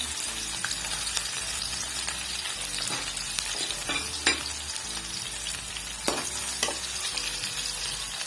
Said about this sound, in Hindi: घी मेरा हो चुका है गरम। यहाँ मैं इसमें शामिल करूँगी अपना प्याज मैंने कटिंग करके रख दिया था